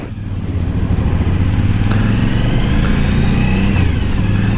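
An adventure-model motorcycle on stock mufflers, with 22,000 miles, drones steadily and loudly while riding, its engine note holding an even, close-up roar throughout.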